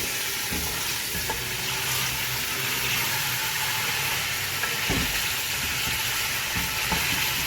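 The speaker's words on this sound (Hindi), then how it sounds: "तेल में फ्राई कर रही हूँ।" Beef nihari meat frying lightly in oil in a pot, giving a steady, close sizzle with occasional stirring clatters and no talk.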